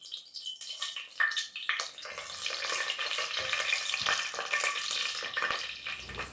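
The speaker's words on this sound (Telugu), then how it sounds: "రా స్పైసెస్ అన్నీ చక్కగా వేగి మంచి అరోమా వస్తున్నాయండి" Cinnamon, cloves, cardamom, shahi jeera and bay leaf frying in hot oil for wedding-style veg pulao, a dense close sizzle that swells after a few irregular clatters and stirring knocks, with no talk.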